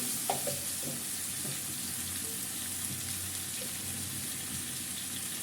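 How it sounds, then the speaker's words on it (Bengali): Mixed vegetables fry in a pan with a constant hissing sizzle, a few soft stirring knocks early on, then a steady unbroken fry with no voices. "ভালো করে ভেজে নিতেছি"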